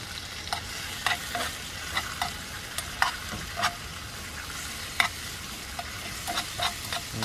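Pasta frying in a pan at an outdoor tailgate, a steady soft sizzle broken by intermittent scrapes and clacks of stirring, close up with no talk.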